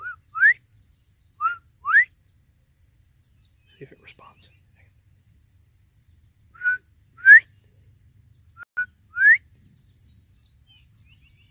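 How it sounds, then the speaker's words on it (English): A bobwhite quail's clear rising two-note whistle repeats several times with pauses between, fairly close, and a person speaks briefly in the middle. "That's a bob white quail."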